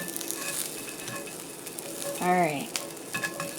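Garlic sizzles in a hot frying pan as a steady, soft hiss through the whole stretch, with a brief spoken word from someone partway through.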